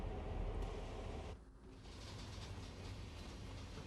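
A CSX freight train rolling through New York City in the Train Sim World game, a dense steady rumble of wheels and cars with a brief dip midway, continuous and moderately loud.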